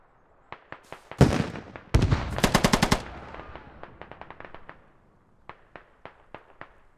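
Machine-gun fire in a military shooter game: scattered single shots, then two dense rapid bursts, followed by a string of quieter, evenly spaced individual shots.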